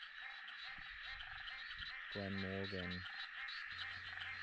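Frogs croak from roadside pools in Brigalow country, with a loud, deep, pulsing chorus of repeated harmonic calls near the middle and more croaks at the end, set over a steady bed of insect buzz and faint distant calls.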